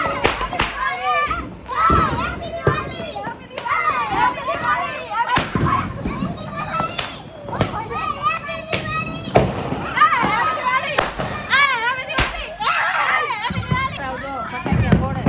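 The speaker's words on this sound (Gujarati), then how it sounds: "જો ફટાક્યા ફોડે" Diwali firecrackers burst in rapid succession outdoors, loud sharp bangs and cracks cutting through a lively crowd of children and adults shouting and talking throughout.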